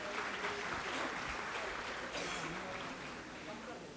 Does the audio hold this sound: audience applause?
yes